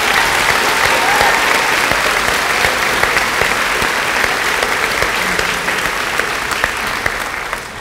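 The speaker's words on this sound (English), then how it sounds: "a round of applause" Audience at a middle school graduation ceremony applauds in a sustained, dense wash of clapping, loud and even throughout before easing slightly at the end.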